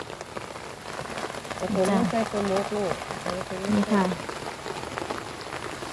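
Heavy rain from tropical storm Noru patters steadily on surfaces during outdoor fishing with a lift net. Someone speaks briefly over the constant downpour.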